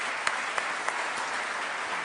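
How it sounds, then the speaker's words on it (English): Audience applause for panelists at an evening debate on enterprise software, a steady wash of clapping from a seated crowd with a few sharper claps standing out, moderately loud and continuous. "Let's give them another round of applause, please."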